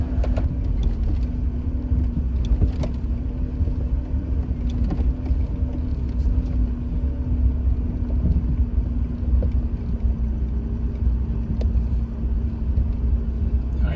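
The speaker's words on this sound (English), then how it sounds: "this little WJ on 29-inch tires running about 20 pounds of pressure does a damn fine job of climbing these hills" A Jeep WJ on 29-inch tires aired down to about 20 psi climbing desert hills near old mines in Death Valley, its engine a steady, loud low drone with rumbling road noise, wind buffeting and occasional clunks.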